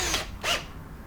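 Long drill bit boring into wood at a Shopsmith workbench build, heard as two short bursts of whirring bite, close and fairly loud, then quieter hiss.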